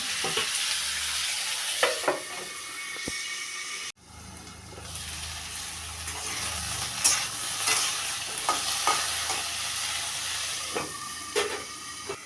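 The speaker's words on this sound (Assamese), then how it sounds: "এতিয়া মই ভাজি আছোঁ আলু এইখিনি আলু আগতে মই ভাজি ল'ম" Steady frying sizzle of potatoes in a pan, with intermittent scraping and stirring clicks throughout; a brief break midway before the crackle resumes.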